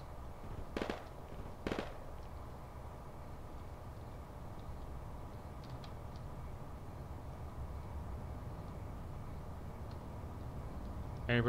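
Artillery firing in Project Reality: two sharp distant booms early on, then a low steady rumble of battlefield noise with faint scattered pops, ending with a louder hit.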